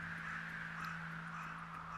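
Crows caw repeatedly over a steady low hum in a cold, open winter setting, the calls fairly distant and overlapping in an irregular rhythm.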